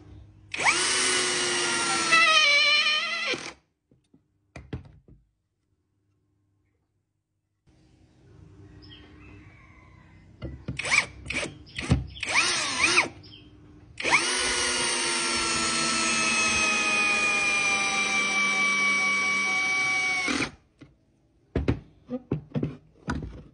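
An 18V SOARFLY cordless drill with a brushless motor whines in several close bursts. Short pulses and longer steady runs are separated by pauses and small clicks.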